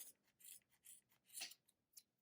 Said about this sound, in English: I'm just going to trim it off.